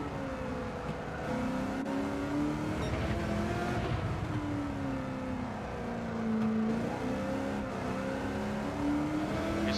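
V8 Supercar engine heard on board in a racing video game on the Deep Forest circuit, a steady loud drone that rises and falls in pitch through the corners as the throttle is worked, running alone throughout.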